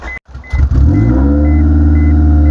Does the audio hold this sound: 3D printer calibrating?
no